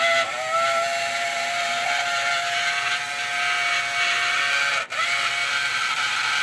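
An old Tyco Mantua 1776 model train locomotive running after cleaning and lubrication, giving a steady, loud whine with a hissing, whistle-like tone close by and one brief dropout near the end.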